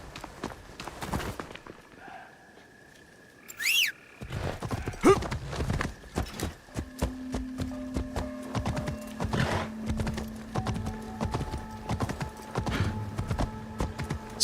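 Video game horse hooves clip-clop steadily on the ground, loud and close, after a neigh, with rhythmic footfalls continuing as the horse moves along.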